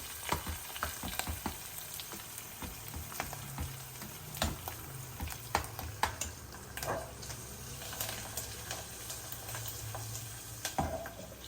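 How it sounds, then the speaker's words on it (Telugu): Garlic tempering frying in oil, a quiet steady crackle with frequent sharp pops and spits and a few low stirring scrapes, close to the pan with no voices. "మన వెల్లుల్లిపాయలు ఎర్రగా వేగాలన్నమాట వేగే వరకు ఉంచుదాం పోపు"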